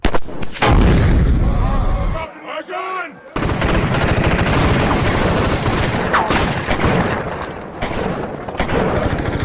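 Loud, sustained film gunfire and explosive blasts from The Hurt Locker with a rumbling low end, a brief near-silent gap, then continuous rapid shots and booms.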